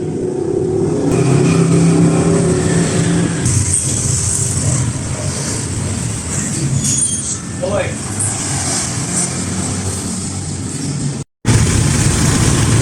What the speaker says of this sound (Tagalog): general overhaul ang ginawa dito sa 4056 diesel engine